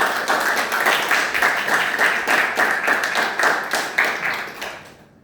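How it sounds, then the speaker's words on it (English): A small audience at a Toastmasters club meeting on the theme of freedom claps in a rhythmic, pulsing pattern of hands, fairly close, that tapers off after about five seconds. "So let's have a big round of applause for all our leaders."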